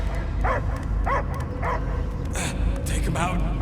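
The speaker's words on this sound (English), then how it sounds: "I hear only barking" A dog barks in short repeated yips and bow-wows in the Guardians of the Galaxy video game, heard amid game sound and voices talking.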